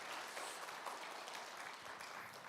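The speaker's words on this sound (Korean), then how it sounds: "여러분 박수 한번 크게 해주세요." A church congregation applauds after a choir's hymn, a faint, even wash of many hands clapping at a distance with no talking.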